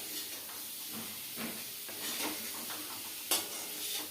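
Baby potatoes sauté in a pan with a steady close sizzle and hiss, stirred now and then with soft scraping strokes and one brief sharper clink.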